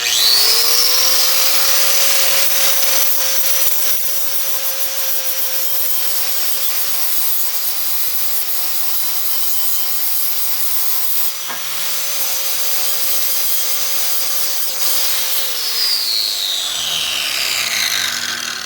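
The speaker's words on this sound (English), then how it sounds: "120 grit flapper wheel on your grinder, and just use that real lightly to clean up your extra gasket material here" An angle grinder fitted with a 120 grit flap wheel is used lightly to clean gasket material off a surface on a Jeep ZJ differential, giving a steady, loud whirring rasp with a sustained motor whine that winds down at the end.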